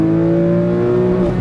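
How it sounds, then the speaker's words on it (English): A Porsche 996 911 Carrera's engine revs loud and close, with a steady, rising drone that holds strong across the whole moment. "Oh my god, the sound. And that is what makes a Porsche a Porsche."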